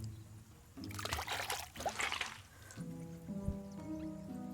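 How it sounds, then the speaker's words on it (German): Water is let in during the video game Aboard the Adventure, with soft trickling and dripping over a low steady hum and a brief splashy surge in the middle. "Wenn ich jetzt versuche, Wasser reinzulassen,"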